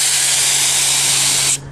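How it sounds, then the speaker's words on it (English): A paint spray gun set to a narrow fan pattern, used on sheet metal, blasts a loud, steady hiss that holds for about a second and a half and then cuts off abruptly. "So I have it set for fan spray now, because I was painting a sheet metal surface,"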